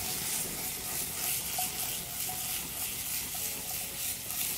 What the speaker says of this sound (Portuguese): Aquela selada na carne.